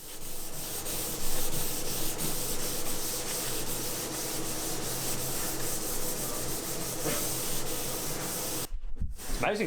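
Continuous rasping sandpaper rubbing over stripped wooden furniture in a restoration workshop, steady and close, with strokes repeating throughout before a short pause near the end.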